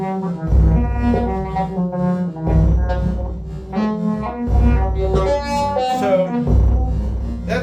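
A modular synthesizer plays a slow, repeating melody of sustained notes through a phaser, with a sweeping, swirling tone, loud and close with no voices.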